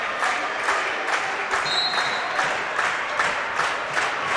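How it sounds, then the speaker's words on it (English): Massac County fans at a high school volleyball match stomp and clap in a steady rhythmic beat, the sound broad and continuous with crowd noise in the gym and a brief whistle partway through. "Massac fans on their feet, stomping and clapping"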